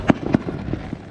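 A small July 4th firework goes off nearby with a couple of quick sharp pops followed by fainter crackles, all within about a second.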